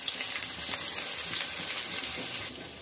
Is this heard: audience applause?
no